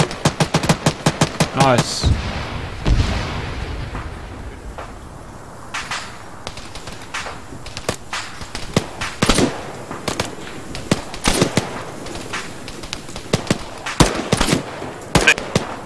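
Dense squad gunfire in Arma 3, rapid bursts and sharp single shots cracking loud and close in clusters, with a pause midway before firing resumes; a voice briefly speaks over it.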